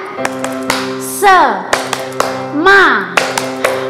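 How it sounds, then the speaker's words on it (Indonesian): Children's rhythmic clapping chant with sharp hand claps in a steady pattern, interleaved with sung or chanted voices rising in pitch, close and fairly loud. "Seperti biasa, tepuk semangat. Tepuk semangat."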